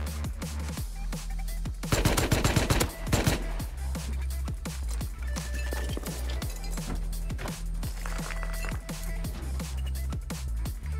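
AK rifle fire in the survival game Rust: scattered sharp shots throughout, with a dense rapid burst early on, moderately close and without talking over it.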